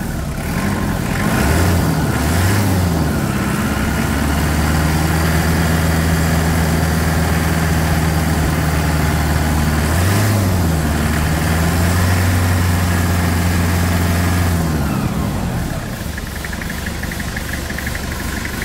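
A rebuilt Toyota SW4 engine runs close by, idling with a steady low rumble and rising in pitch during several revs before settling back down, with no voices.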